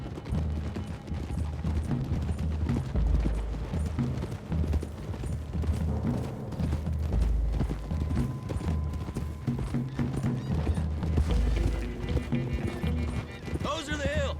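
Horses gallop along a trail in the Red Dead Redemption video game, hooves clip-clopping steadily under a dense bed of game music and ambience, with characters speaking over the ride.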